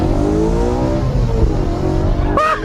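A 2013 BMW M3 E92 with a 4.0-litre V8 of 450 horsepower accelerates hard, its engine note climbing steadily in pitch toward high revs, loud and close, ending with a brief sharp gear-change blip.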